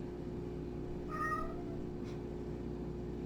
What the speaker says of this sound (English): that's my cat all the way at the end of the hallway yowling for somebody to come pet her.